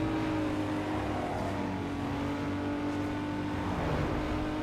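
Opel Corsa driving in Need for Speed Underground 2, a steady engine drone with a sustained tonal hum and faint revving, holding at an even moderate level throughout without speech.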